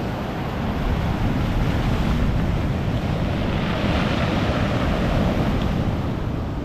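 Sea waves surge and crash against the shore on a big tide, with strong wind buffeting the microphone in a steady, loud roar that never lets up, heard at night at Rossall Point, Fleetwood, without any talk.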